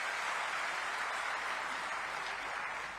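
A crowd claps at a political rally with Chief Minister Vishnu Deo Sai, a steady, even burst of applause holding at one level throughout, with no voices over it.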